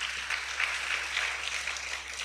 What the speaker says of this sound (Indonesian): Tepuk tangan untuk Wardah.